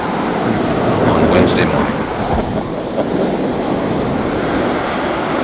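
Strong wind buffets the microphone at a beach RV campground at Smith Point Park on Fire Island, a steady roaring rush with surf blended in, while a person talks briefly over it.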